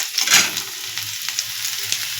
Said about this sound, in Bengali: এবার দিয়ে দেবো আমি এর মধ্যে একটু আদা এবং রসুন কুচি অল্প পরিমাণে। এটাকে আমি একটু হালকা লাল করে ভেজে নেব।